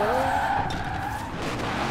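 Tires screech through a continuous drift in Forza Horizon 4, with a steady high squeal and engine roar holding loud and close throughout.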